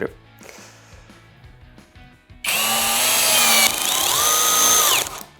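A TAOE-CD35 cordless drill whines loud and steady for a few seconds, its pitch dipping as a 16 cm screw bites into wood, after quieter handling clatter.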